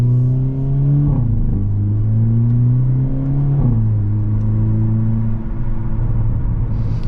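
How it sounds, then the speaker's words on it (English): A 2023 Hyundai Elantra N drives along, its engine and exhaust droning loudly and steadily. The pitch climbs through each gear and drops sharply at the shifts, with no talking. "the engine is amazing, the exhaust sounds amazing"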